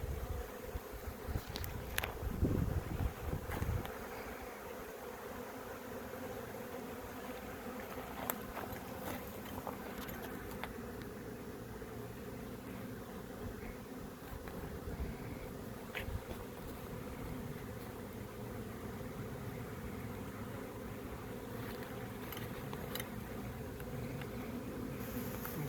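Honeybees from a strong colony drone in stacked hive boxes, a faint, continuous buzz with occasional louder bees passing close by. A few knocks and handling sounds come early on.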